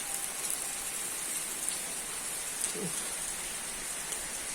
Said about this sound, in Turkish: Ya yağmur var da dolayı fazla gezemiyorum yani. Yağmura bakar mısınız?